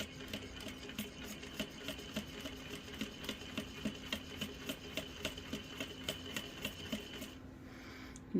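A sewing machine stitches across a pleated skirt for a Smart doll, running in a steady fast rhythmic chatter of needle strokes, close and alone, stopping near the end.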